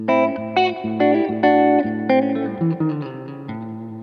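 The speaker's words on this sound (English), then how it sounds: "this reverb is very delay-y" An electric guitar plays through a reverb pedal with a strongly delay-like character, so each plucked note and chord rings out and repeats as it fades, one line of several separate notes with no voices.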